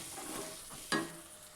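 Fresh shelled green peas, one bowlful, dropped into a hot pan of spices for a peas pulao, giving a sudden sizzling burst that rises sharply and then settles into a steady frying hiss.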